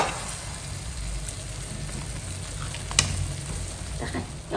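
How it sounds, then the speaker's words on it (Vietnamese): Snakehead fish seasoned with black pepper frying in hot oil, a steady close sizzle with a brief sharp pop near the middle. "Thì cá lóc này chút xíu nó để vô chiên."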